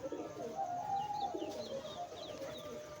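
Madras pigeons, a female and a male kept as a pair for sale, coo softly in low, repeated calls. Faint chirps from other birds sound in the background and no one speaks.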